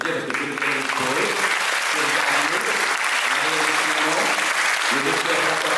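Loud, sustained applause from the audience at a charity evening, dense clapping that carries on throughout while music with a repeating low melody plays underneath.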